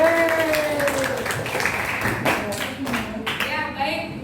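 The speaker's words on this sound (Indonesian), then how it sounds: "tepuk tangan untuk Serina" A high school class at SMAN 3 Cibinong claps for a student, a steady patter of many hands running throughout while a teacher's voice talks over it.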